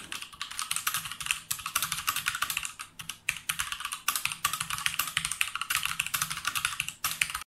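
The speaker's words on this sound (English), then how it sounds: "Here's a sound test of the older version modded with Vitron and Clears." Fast, steady typing on a Tecware Phantom RGB mechanical keyboard modded with Vitron and Clear switches, with dense clacky keystrokes close up and no voices.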